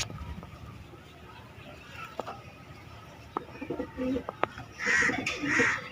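A female pet pigeon coos softly a few times near the end, low throaty calls rising over quiet room noise, with someone talking at moderate distance beforehand.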